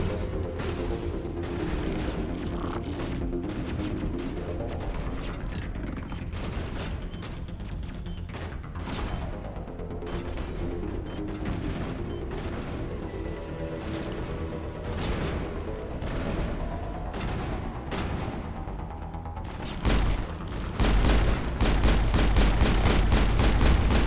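Rapid gunfire in the video game Mass Effect crackles continuously through a dense, loud mix of game effects and music, with heavier booming bursts near the end; no talking.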